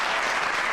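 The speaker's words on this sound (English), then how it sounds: "Let me give him a clap" An audience claps in a brief, dense burst of applause that stays steady and fairly loud throughout.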